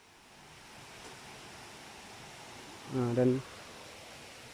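A river flows beside an old grave site whose headstone has gone, giving a steady, close, broadband rush throughout, with a short spoken voice rising briefly near the end.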